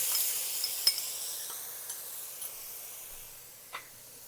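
Minced garlic sizzles softly in a hot pan as it is stirred, with a steady low hiss broken by a few light scrapes and clinks of the utensil.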